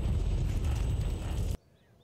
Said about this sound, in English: And artillery.